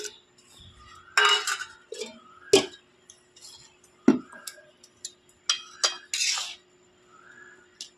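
Utensils scrape and clink against a pot as jaggery is spread and stirred over mango pieces, a series of sharp, close metallic taps and scrapes separated by short pauses.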